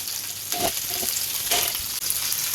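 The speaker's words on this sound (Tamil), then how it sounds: "கொண்டக்கடலையும் நல்லா பொரிஞ்சு மேலே வந்துட்டு" Chickpeas deep-fry in hot oil, a loud, close, continuous sizzle and crackle with brief stirring bursts and no talk.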